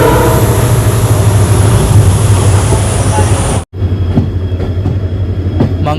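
A diesel locomotive pulls away between Mangaluru Central and Subramanya Road, its engine roar steady and loud with a high whine, a brief dropout near the end, then continued rumble with rail clicks.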